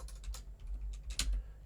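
Keys clatter on a computer keyboard in quick, uneven bursts of close taps, quiet and dry, with short pauses between strokes and no voice.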